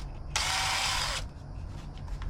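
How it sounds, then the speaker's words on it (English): A metal reamer working through holes drilled for bolts on a DIY kayak motor mount gives a steady, loud grinding whir lasting just under a second, alone and close, followed by faint ticks. "Here I'm reaming them out for some bolts."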